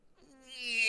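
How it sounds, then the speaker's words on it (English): A cat gives a single rising meow inside a bus, beginning faint and swelling louder toward the end, close and alone. "I'm letting the cats run around the bus to explore it."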